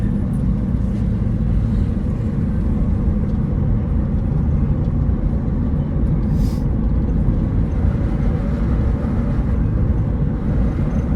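A van heading to a trailhead in Montana rumbles with continuous loud low-pitched road and engine noise from inside the cabin, steady for the whole stretch with no talking.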